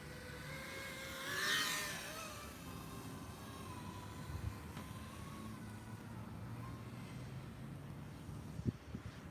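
A 5-inch racing drone flies low to the ground with high-pitched motor whine whose tone shifts as the throttle changes, including a brief louder swell early on, over faint background rumble.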